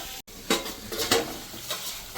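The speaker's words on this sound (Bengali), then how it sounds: "একটুখানি এটাকে ভালো করে করে নিই, কষিয়ে নিই হালকা করে।" Taro stolons with spices and small crabs are sautéed in a pan. A spoon scrapes and stirs in several rhythmic strokes over a soft sizzle, close up, with no talk.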